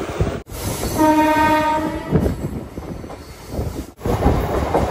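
Passenger train halting at Krishna Canal junction on a line toward Guntur and Tenali: a steady, loud mechanical rumble with a sustained horn blast near the start and brief gaps in the noise, with no voices.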